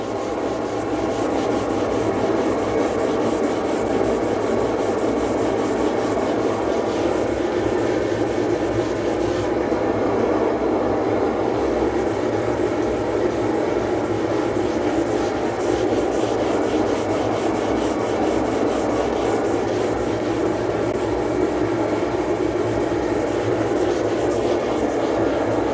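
Continuous hand sanding of lacquered wood on a subwoofer box rasps steadily for the whole stretch, a close, even scratchy rubbing with only a brief lighter pause partway through.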